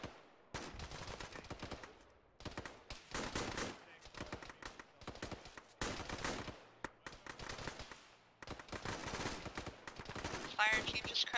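Gunfire from the military game Arma in a ShackTac session comes in several loud, rapid bursts of automatic and single shots, separated by short quiet gaps.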